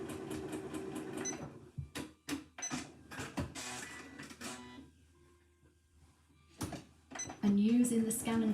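A sewing machine stitches a small fabric coaster in short, rapid bursts separated by pauses, with a person talking over and between the stitching runs.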